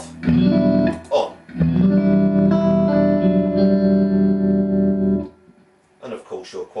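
Electric guitar played through a Lee Hodgson Romany TR20 amp with its tremolo set near maximum depth: a few seconds of loud sustained chords that pulse in volume, bracketed by brief picked notes.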